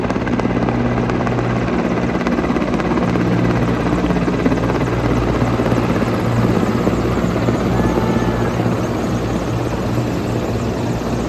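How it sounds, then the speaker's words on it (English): Helicopters drone overhead during a Republic Day parade rehearsal with a steady, loud rotor thrum and engine whine that fills the air without a break. "We also witness the helicopters shouting, marking and spreading symbols of unity and togetherness."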